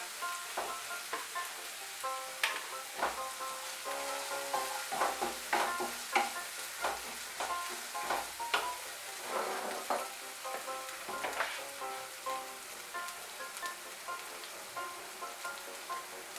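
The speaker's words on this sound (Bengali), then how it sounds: "একটু নাড়াচাড়া করে নিয়ে এর মধ্যে আদা বাটাটাও দিয়ে দেব।" Ginger paste being stirred into a frying Bengali eggplant curry, with a steady sizzle under repeated scraping strokes of a spoon in the pan, close and continuous with no talking.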